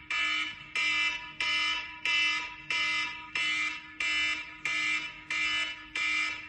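An alarm clock rings in a loud, regular pattern of about nine evenly spaced electronic beeping bursts, each lasting roughly half a second, with no voices.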